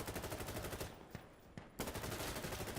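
Rapid automatic gunfire in the shooter game Insurgency: Sandstorm, dense fast bursts that pause briefly for a couple of single shots before the firing resumes at full intensity.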